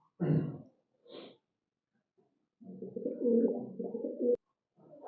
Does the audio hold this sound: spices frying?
no